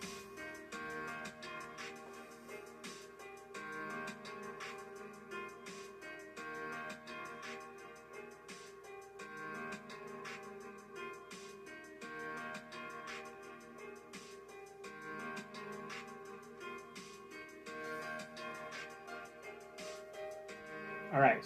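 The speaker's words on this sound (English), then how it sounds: "Alright, so you heard that piano that I put in there?" Song chorus with piano riffs over a steady drum beat plays continuously at moderate level. Repeated percussive hits keep an even rhythm for the whole passage, with no talking over it.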